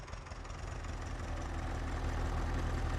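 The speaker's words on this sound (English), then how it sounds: "I will say this tractor is struggling with 2 of these trailers on it" A tractor engine in Farming Simulator 19 labors while pulling two heavy trailers, a steady low drone that rises slightly in level over a few seconds, close and alone.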